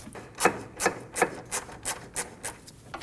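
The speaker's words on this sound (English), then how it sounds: "Using a 19mm socket, we're going to loosen the bolt." A ratchet on a 19mm socket loosens a bolt on a 2008-2015 Scion xB during front lower control arm work, clicking in eight evenly spaced rasping strokes that fade slightly toward the end.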